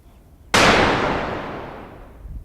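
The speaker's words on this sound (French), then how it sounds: "Quand je vois ces sangliers sortir là-bas au loin, je tire mais c'est trop loin." A single rifle shot fired at wild boar during a hunt in the south of France, a sharp loud report with a long rolling decay across open country, heard alone.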